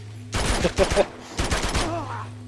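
AK-47 rifle fire in Uncharted 2, two sharp bursts of rapid close shots separated by a brief pause, loud and punchy, with faint game background between them.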